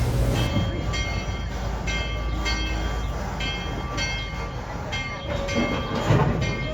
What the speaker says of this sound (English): So now we're pulling into the station, and then we're gonna deboard the train.